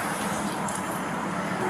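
Car engine idling at a roadside traffic stop, a steady low broadband rumble with road noise running through the whole short stretch.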